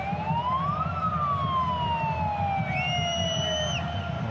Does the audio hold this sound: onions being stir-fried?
no